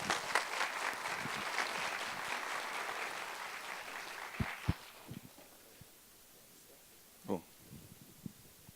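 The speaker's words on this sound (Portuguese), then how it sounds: "Uma salva de palmas." An audience at a national congress lecture applauds to welcome a speaker, a full burst of many hands that fades after a few seconds, followed by a few scattered claps, footsteps and light shuffling.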